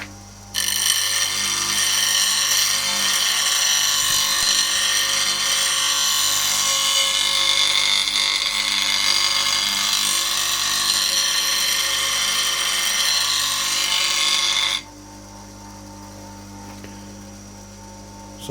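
A knife blade is roughed and shaped freehand on a sharpening wheel, a steady bright whirring grind held loud and close for about fourteen seconds before it cuts off, leaving the quieter hum of the machine.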